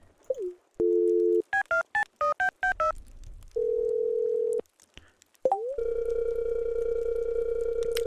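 Telephone dialing in Stardew Valley: a dial tone, then a quick run of eight DTMF key beeps, a steady tone, and a long ringback tone that holds to the end, loud and clean.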